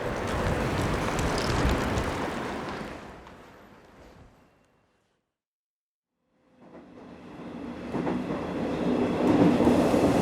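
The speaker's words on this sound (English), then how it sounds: "I'm on a train, apparently a fairly obscure line" Rumbling train noise with rattling carriages on a line from Fukuoka to Saga, Japan, fades to silence for a couple of seconds, then swells back in, loud and steady, as the ride continues.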